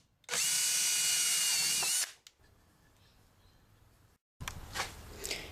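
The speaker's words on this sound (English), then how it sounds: "drill a hole straight through there" A loud, steady power drill whine runs for about two seconds, then cuts off, followed by quieter handling noise and a brief clatter.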